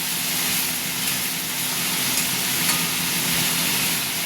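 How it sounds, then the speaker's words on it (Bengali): Bori lentil dumplings frying in oil in a pan, a steady close crackling sizzle with a broad hiss that continues evenly throughout, without voices. "এই যে বড়ি ভাজছি, এই যে এখানে বড়িগুলো ভাজা হচ্ছে।"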